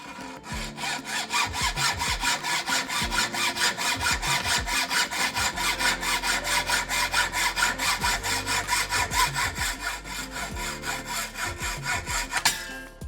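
A hand saw cuts an aluminium bar to length, loud close rhythmic back-and-forth rasping strokes at a steady quick pace, alone without talk.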